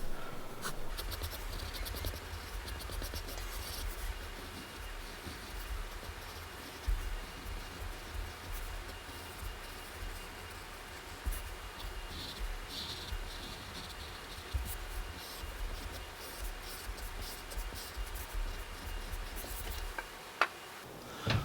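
Pencil scratching and scribbling steadily across paper while drawing a snowman, sped up into a fast, continuous run of close, quiet strokes with no voice.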